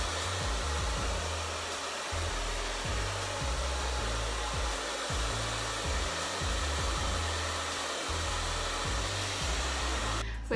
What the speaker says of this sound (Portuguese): Então eu vou usar o secador no médio.